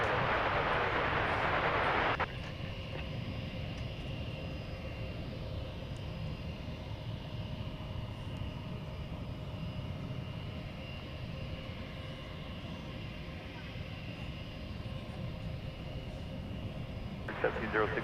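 Airplane engines roar steadily at DFW Airport, loudest in a sharp opening burst before settling into a sustained, even drone, with voices faintly beneath.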